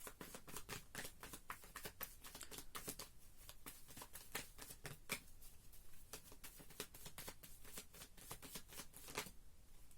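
Tarot cards are shuffled close up in a quiet room, a steady fluttering riffle of cards slapping and sliding for several seconds, soft and alone without any voice.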